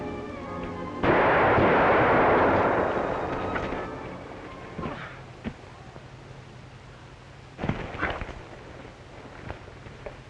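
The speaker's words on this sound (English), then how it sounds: "Drop that gun or I'll shoot." Gunshots in a 1945 western film: one loud, echoing shot dies away slowly, followed by a few fainter, sharp reports scattered over the following seconds, with no talk.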